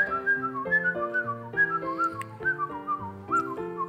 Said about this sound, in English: You may know him by songs that he covers by whistling